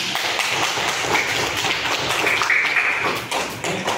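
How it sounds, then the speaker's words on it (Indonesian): Classroom applause for a student named Najwan during a lesson on artificial intelligence, a loud, dense burst of many hands clapping close by, holding steady for several seconds. "tepuk tangan buat Najwan"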